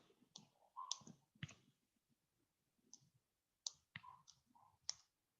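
Mouse clicks from a computer during an industrial engineering class: sparse, sharp, faint clicks in irregular clusters with quiet gaps between them.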